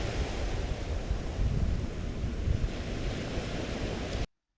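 Waves wash onto a beach north of Palm Cove near Cairns, a continuous broad rushing roar with gusty wind buffeting the microphone, steady and fairly loud until it cuts off abruptly.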